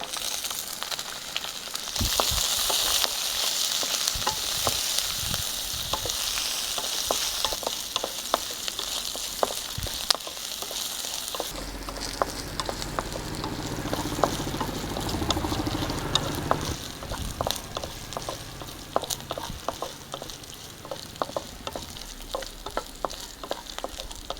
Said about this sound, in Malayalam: ഇതിലേക്ക് 3 പച്ചമുളക് അരിഞ്ഞതും കുറച്ച് തേങ്ങാക്കൊത്തും ചേർത്ത് മൂപ്പിക്കാം.